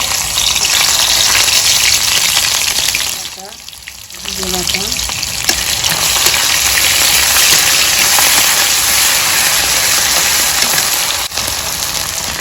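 Onion, garlic, ginger and chili pastes fry loudly in oil for a village-style chicken curry with taro, a dense rain-like sizzle that drops briefly, then surges back, with faint talk at one point.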